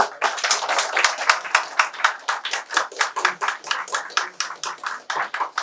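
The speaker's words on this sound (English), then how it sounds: "So I would like to request everyone to give big round of applause" A small group claps in a steady, rhythmic pattern at a college carnival event, individual claps clearly audible and fairly close, without cheering.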